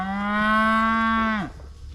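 A single long, loud moo from a cow rings out close by for about a second and a half before breaking off, heard alone with no talk, while cows and young calves are being moved.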